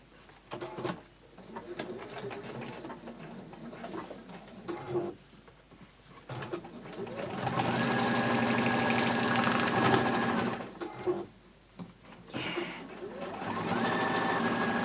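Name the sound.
sewing machine stitching a straight line on a glitter pouch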